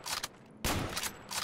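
Gunfire in a jungle combat video game, shots fired through foliage: two bursts of broadband blasts, a short one and then a louder, longer crackling volley, with no talk over them.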